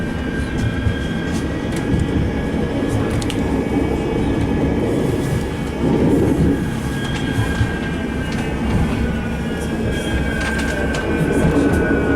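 A Manchester tram rumbles along its rails near Harbour City, loud and close, with steady low roar, clicking wheel joints and faint high squeals throughout.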